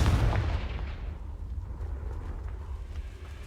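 The Confringo blasting spell detonates in Hogwarts Legacy, a single loud, booming explosion that hits at once and then fades into a long, low rumbling tail.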